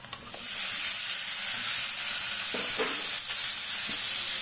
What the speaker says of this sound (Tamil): இப்போ இதை போட்டுக்கும் தக்காளி பச்சை மிளகா கருவேப்பிலை எல்லாத்தையுமே போட்டுக்கலாம்